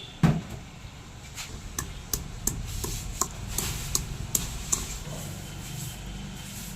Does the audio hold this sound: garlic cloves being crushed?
yes